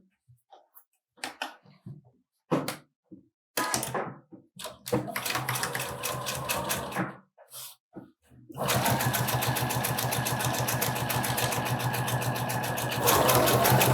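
A sewing machine stitches a seam along fabric, about 2 mm from a first seam, while a facing is joined to a garment. Short stop-start bursts of needle clatter come first, then a long, steady, close run of rapid mechanical stitching.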